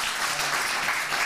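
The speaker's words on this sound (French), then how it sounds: "Donc 7, on peut l'applaudir." Brief applause from the audience at a media innovation conference session, a steady burst of many hands clapping together that stays at an even level from start to finish with no talking.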